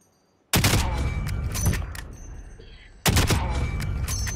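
Two loud, close bursts of automatic gunfire in Call of Duty Warzone, each a rapid rattling volley with ringing tails, separated by a short pause.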